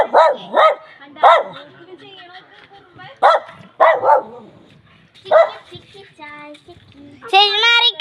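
A puppy barks in a series of sharp, high yips, several close together and then more spaced out, with children's voices talking between and over the barks.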